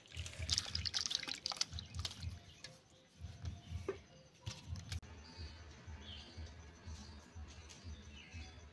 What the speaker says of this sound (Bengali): এবার আমি ধুয়ে নিচ্ছি।